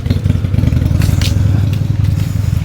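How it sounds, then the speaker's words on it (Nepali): A motorcycle engine runs close by with a steady low, throbbing rumble that swells slightly, loud and continuous throughout with no talk over it. "ओहो बाइक पड्कायो यार"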